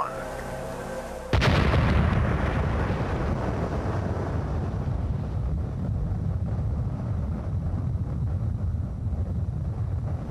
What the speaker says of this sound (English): the countdown to the world's first atomic explosion began.